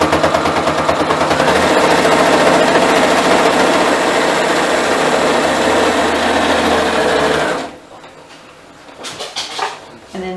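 A sewing machine back-stitches a rag quilt tote, running as a loud, fast, continuous mechanical rattle for about seven seconds, then stopping, with softer handling noises and a short burst of activity near the end.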